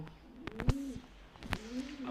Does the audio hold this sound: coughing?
no